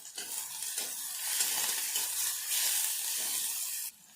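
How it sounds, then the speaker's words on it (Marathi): Finely chopped onion frying with cumin in a pan for a dry capsicum bhaji, a bright, steady hiss of sizzling oil with faint stirring, cutting off abruptly near the end. "आपण बारीक चिरलेला कांदा टाकून घ्यायचा आहे आपल्याला इथे आपण कांदा थोडासा लालसर करून घेणार आहोत"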